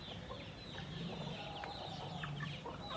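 A rooster and chickens clucking on a farm, soft repeated clucks close by against a low background hum.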